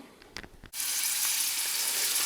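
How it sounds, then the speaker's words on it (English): Onion half rings hit a frying pan with just enough oil to coat the bottom, bursting into a loud, steady sizzle that continues unbroken after a few faint clinks. "once you've added your onions to the frying pan, just enough oil"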